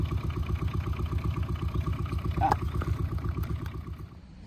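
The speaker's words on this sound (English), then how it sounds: "let's see how this really beautiful engine sounds" The small engine of an Aixam 500-4 microcar minivan idles steadily with a rapid, even putter, close up and fairly loud, with a brief click midway before it fades slightly.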